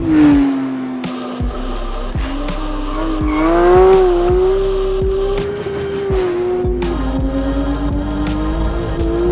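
A 2022 Porsche 911 GT3 driven hard into a corner on a track, with a loud, high-revving engine wail that rises and falls through the bend as the tires squeal and scrub, close and continuous.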